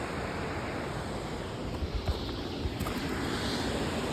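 A constant, even roar of a monsoon waterfall near Mussoorie rushes without pause, with no voices.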